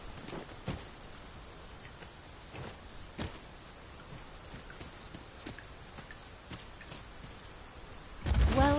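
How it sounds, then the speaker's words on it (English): Steady rain falls in the video game Dragon's Dogma 2, a constant soft hiss with occasional sharper drops, ending in a brief louder burst of sound. "Must it rain now? The weather may yet turn fierce."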